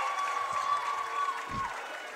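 Football crowd at a CUC game cheering as a touchdown is confirmed, a steady distant roar of voices and applause filling the stadium throughout.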